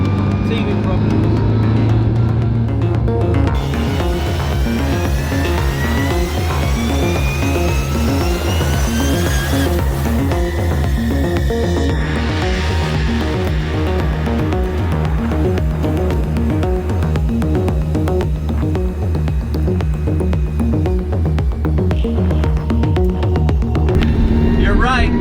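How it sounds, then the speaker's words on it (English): A 1964 Morris Cooper S with straight-cut gears whines loudly from inside the car, a constant droning engine roar with rising and falling gear whine as it accelerates and shifts, people talking briefly over it. "I'm really glad you made me put these straight cut gears in there"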